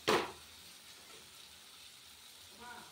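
Spiced masala frying in a pan as potatoes go in, a sharp sizzle burst at the start that settles into a faint, steady fry, with a voice briefly at the end.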